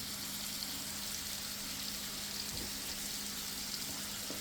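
A hamburger patty frying in a pan on medium heat gives a steady, fairly faint hiss with soft crackle, even and unbroken throughout, with no voices.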